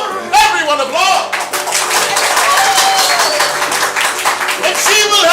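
An audience at an improvised musical comedy show gives sustained, loud applause that continues while a voice talks over it and dominates the texture.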